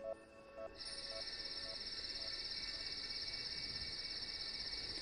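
Cicadas drone in a loud, continuous high-pitched buzz that starts after a few faint rhythmic chirps and holds steady throughout.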